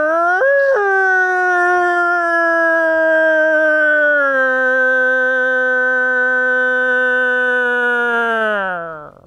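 Wolves howling at a wildlife park in Fuente de Piedra, a loud, sustained, rich howl that rises sharply at first, then holds a long steady tone before fading out, close and alone.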